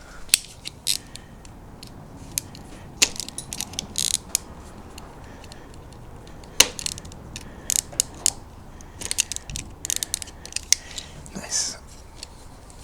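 Clear 6mm breather hose on a Kawasaki KLX300 motorcycle being cut, heard as sharp, irregular snips and mechanical clicks up close, with scattered louder snaps.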